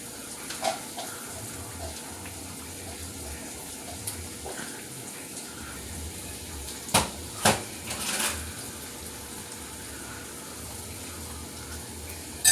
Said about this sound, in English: Dang, this water is hot.